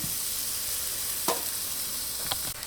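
Butter melting in a pan inside a Ninja cooking system oven gives a faint, steady sizzle with a couple of brief clicks and scrapes near the end.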